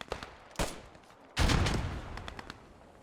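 Suppressing bursts fired toward a concrete bunker on a WWII battlefield in Post Scriptum, with a few sharp shots followed by a heavier burst and scattered distant reports over an ambient background.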